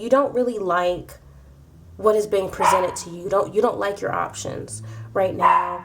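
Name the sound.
dog barking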